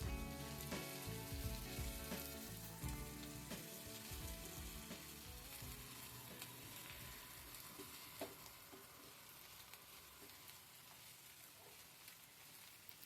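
Mint and fenugreek leaves cooking down in a pan for Karnataka-style veg biryani: a dense, continuous sizzle and crackle of frying, steady and fairly quiet, with no voices.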